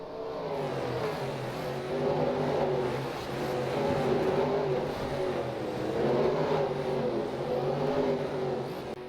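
A race car in a stock-car racing sim game sweeps past in a continuous rising and falling engine whine, a steady, moderately loud drone with no talk over it.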